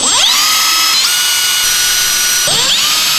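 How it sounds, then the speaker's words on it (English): Power drill with a small bit boring a shallow pilot hole into wooden wall framing in a garage, a loud continuous whine with brief pitch dips as the motor bogs and recovers, close and alone. "Right now what I'm going to do is just send a small little drill bit in just a little ways to make sure I hit wood."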